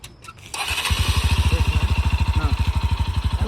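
Motorcycle engine kicks over after a brief pause and settles into a loud, close, steady rhythmic putter of idling, heard alone without talk.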